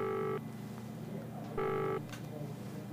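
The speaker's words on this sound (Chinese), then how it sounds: "你等一下，我接个向晨的电话。" Telephone call signal tones, two steady electronic beeps spaced about a second apart over a low hum, with faint talking in the background.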